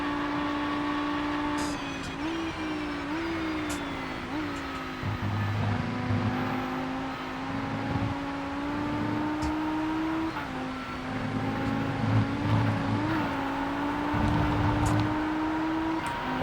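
Race car engine in the Rennsport racing sim, droning steadily at high revs with small pitch dips and rises through corners near Rouge, loud and continuous with no talking.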